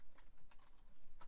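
Fingers type on a computer keyboard in a handful of faint, scattered key clicks, quiet and close, within a brief moment.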